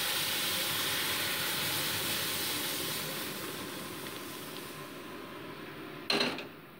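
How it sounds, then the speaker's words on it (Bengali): Dal tempered with bay leaf and radhuni spices hits the hot pan with a loud, broad hiss that slowly fades. A sharp clank of cookware sounds near the end, with no voices. "এবার আমি ডালটা ফোড়ন দিয়ে নিচ্ছি।"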